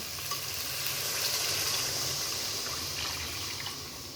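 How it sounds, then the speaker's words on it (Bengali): Water goes into potatoes fried for a fish curry, a steady hissing and bubbling rush from the pan that fades a little toward the end. "কষানো হয়ে গেছে এবার আমি জল দিয়ে দেব"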